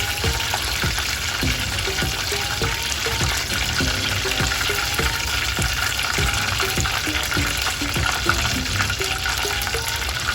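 Chicken pieces deep frying in a pot of oil make a loud, dense, continuous bubbling crackle with frequent sharp pops, steady throughout and with no voices.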